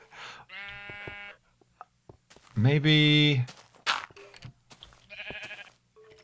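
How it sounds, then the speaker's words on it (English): Sheep bleating in Minecraft, a few harmonic bleats at moderate loudness, one long loud bleat in the middle, with a short spoken word mixed in. "It might be the sheep."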